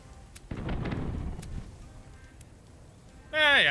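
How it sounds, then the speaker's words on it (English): A ship's cannon firing in the pirate game Tortuga A Pirate's Tale, a deep booming blast with rumbling decay lasting about a second, followed later by a louder tonal game sound. "I fired the cannon on him"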